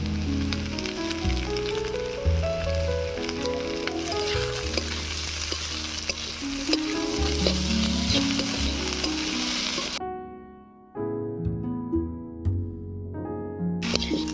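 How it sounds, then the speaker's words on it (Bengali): Bitter gourd and potatoes fry with chopped onion and slit green chilies, a loud continuous sizzle with scraping stirs and clattering of a utensil against the pan, briefly dropping out near the end before resuming. "উচ্ছে আলু ভাজা হয়ে গিয়েছে, তুলে নেব।"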